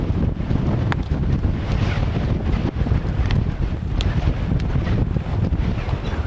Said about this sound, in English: Still awful windy.